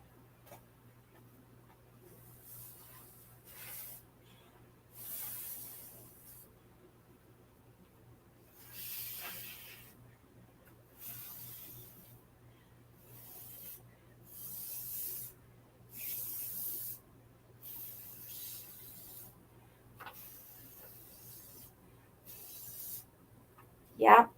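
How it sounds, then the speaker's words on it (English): Bursts of breathy air blown through a drinking straw onto plaster paint, coming in short repeated puffs of a second or two each with pauses between, close and fairly soft, over a steady low hum and some voices. "I'm going to get my straw and I'm going to blow it"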